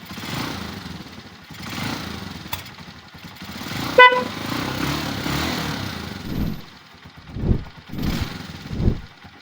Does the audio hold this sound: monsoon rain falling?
no